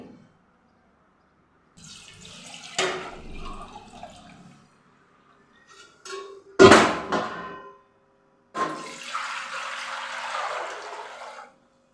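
Water poured from a steel pan into an oiled cooking pot during home papad preparation, heard as a few separate splashing bursts of pouring with short quiet gaps, fairly close and fairly quiet.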